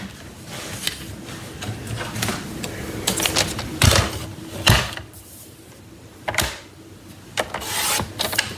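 Fabric trimmed with scissors, giving several short, crisp cutting and rasping bursts among soft rustling and handling noise at close range, with no talking.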